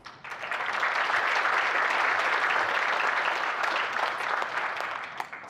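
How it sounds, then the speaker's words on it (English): An audience at a community awards event claps in sustained, dense applause. It swells quickly and holds steady for several seconds, heard from within the crowd with no one speaking over it. "So we have another set of applause for Andrew Edwards and Steve Knox, my bosses"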